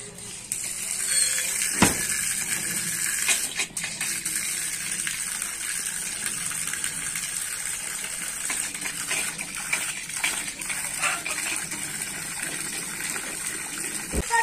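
Water gushes and splashes continuously, like a steady pour filling a fountain, with a few bumps and clicks along the way.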